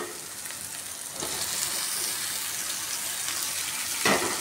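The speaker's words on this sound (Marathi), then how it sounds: "आता टाकते मी यात टमाटर." Chopped raw green tomatoes from the garden tipped into a hot pan for a dry-cooked vegetable dish, a sudden steady hiss of frying that jumps up and keeps sizzling evenly, with a brief louder surge near the end.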